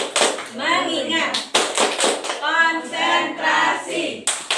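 Schoolchildren in an Indonesian classroom clap in short rhythmic bursts while chanting together, several groups of claps separated by the loud unison voices of the class.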